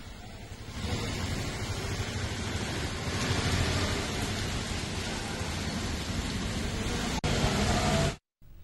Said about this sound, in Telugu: ఎల్బీ నగర్లో భారీ వర్షం కురుస్తోంది